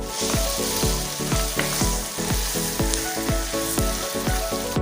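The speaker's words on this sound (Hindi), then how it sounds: "अब इसमें 1 चम्मच नमक, 1 चम्मच काली मिर्च पाउडर ये डाल के मसाले को अच्छे से भून लेंगे।" Masala with green chilies, salt and black pepper frying in a pot for mutton chaap biryani, a steady loud sizzle with regular scraping strokes from a spoon, close up, and no talking.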